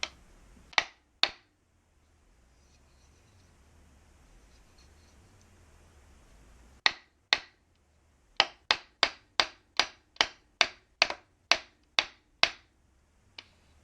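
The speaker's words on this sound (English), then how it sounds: "we'll just do a bit of batoning. See how this does. This is hardwood." Sharp wooden knocks from a survival knife being batoned into hardwood, a few strikes, then a long pause and a steady run of about a dozen evenly spaced loud blows.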